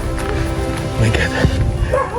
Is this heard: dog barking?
yes